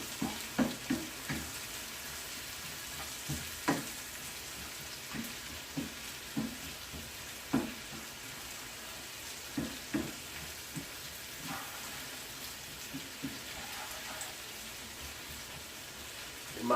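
Hilsa fish frying in oil makes a low, steady crackle with scattered soft pops and spatter at an even pace. The sound is fairly quiet and close, and nobody speaks.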